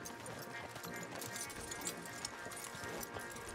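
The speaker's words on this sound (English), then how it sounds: "Javier, you're gonna lead the stallions." Quiet hoofbeats of horses trotting in Red Dead Redemption 2, with stallions being led along in a steady clip-clop rhythm, faint and mixed with low background sound and occasional speech.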